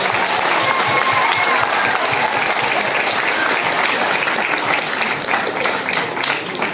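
Audience applause at a Hindi Diwas college event, a steady, dense wash of clapping from a large crowd that holds loud and even from start to finish.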